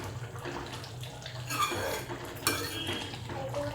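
A ladle stirring rajma bhaji in a cooking pot, with scraping and clinking of metal against the pot and a brief louder clatter partway through, close and alone with no talking.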